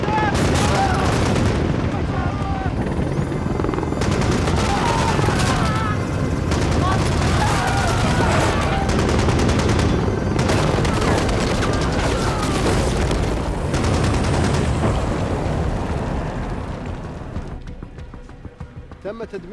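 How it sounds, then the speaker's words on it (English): Dense, loud bursts of gunfire and booming explosions keep going without a break, layered with chaotic battle noise that fades out near the end. "And now we are going to get some explosions and stuff"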